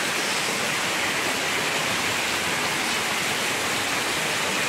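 Heavy monsoon rain storm pours down in a steady, dense roar that stays constant and loud throughout, with no voices.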